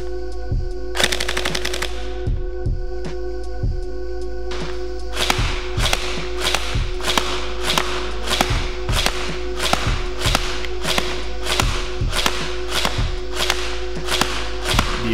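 Rapid bursts and steady single shots from a Tokyo Marui HK416D airsoft rifle, sharp repeated cracks with mechanical clacks, loud and close, alone without talk.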